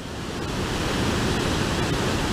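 Waimoku Falls on Maui running high and muddy brown after heavy mountain rain, a dense continuous roar of pounding water, loud and steady from start to finish with no voices.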